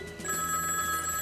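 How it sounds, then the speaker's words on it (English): Telephone ringing in a steady, sustained electronic tone with bright harmonics, continuous across the short span at moderate level, with no voices present. "he finally understood the curse of the ringing phone"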